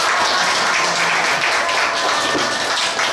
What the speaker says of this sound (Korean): 오늘 특강을 해주신 우리 이태경 자유토지연구소 부소장에게 큰 박수 부탁드리겠습니다